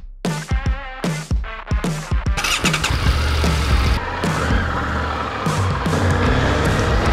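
A motorcycle engine cranks over in a series of short bursts, then catches and settles into a loud, steady idle, heard up close outdoors in Palawan in rainy weather.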